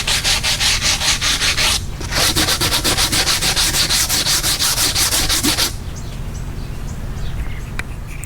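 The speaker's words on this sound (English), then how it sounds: "I'm gonna clean it on up with this hand wire brush" Hand wire brush scrubbing leftover foam off a classic car's roof during a headliner job, steady rapid rasping strokes that pause briefly near two seconds, then stop, leaving faint room noise.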